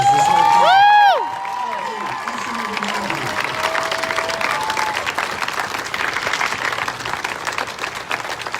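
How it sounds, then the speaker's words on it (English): Applause and cheering from a crowd at a student-organized Black Lives Matter rally in Rochester, Minnesota. Some brief whistle-like tones come at the start, then dense, sustained clapping that stays fairly loud throughout. "give another round of applause to these young people that organized this whole"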